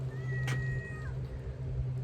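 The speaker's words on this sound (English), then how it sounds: "this stray cat that we've been feeding the last month is out here rubbing on me and meowing" A stray cat gives one short, clear meow close by outdoors, over a steady low hum.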